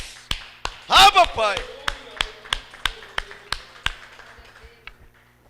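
Congregation clapping at a church service: a series of crisp, separate hand claps in a loose rhythm that gradually thins and softens, with a voice briefly calling out near the start.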